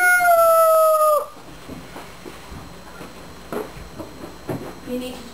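A voice imitates a rooster crow in one loud, drawn-out wavering call, then quiet murmuring and faint talk follow.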